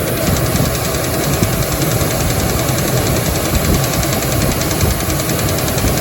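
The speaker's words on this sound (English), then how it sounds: "I think we've got rod knock." A loud engine with rod knock running steadily close up, with a dense, rapid knocking rhythm under the drone, coming from low in the engine.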